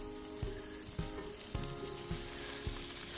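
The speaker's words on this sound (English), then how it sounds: "Some onions, another pat of butter." Onions and smoked sausage sizzle in butter on a cast iron griddle, a steady dense crackle with a few sharp scrapes or taps spaced about half a second apart, close and even, with no talking.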